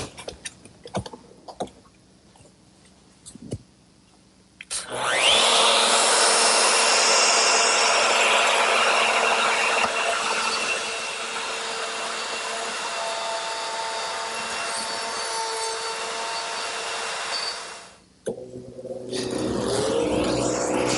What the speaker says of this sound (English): cut some holes, which will be the guides against which this collar on my router will ride for the mortise cuts. I'm using a 1/2-inch straight cutter.